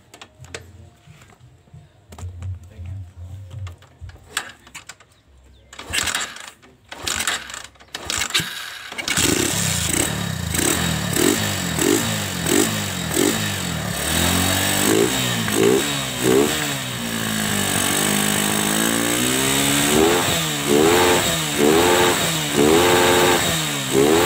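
A Honda Megapro motorcycle with a weak battery gets kicked over with the kick starter several times, a series of sharp cranks before the engine catches and runs at a loping, uneven idle, close by.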